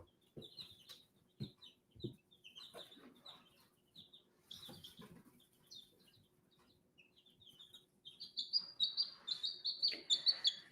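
Small bantam chicks chirp and cluck in high, thin peeps, scattered at first and then busier and louder toward the end, with a few soft knocks and rustles nearby.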